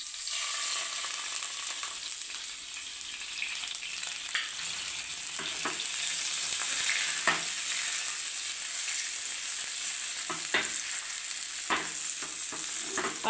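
A tempering of chilies, curry leaves and asafoetida for Gujarati kadhi keeps sizzling in a pan after a little water goes in, giving a constant close frying hiss broken by occasional sharper pops and spatters.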